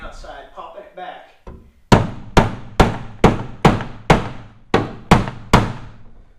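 A hammer strikes bent aluminum boat hull metal back into place in nine sharp, ringing blows at a steady pace, close by, after someone briefly speaks.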